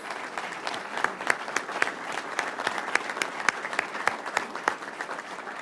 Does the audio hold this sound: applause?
yes